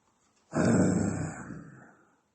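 A dog lets out a single close, loud, rumbling growl lasting about a second and a half, then it fades away into silence.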